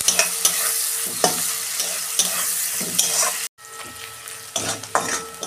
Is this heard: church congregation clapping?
no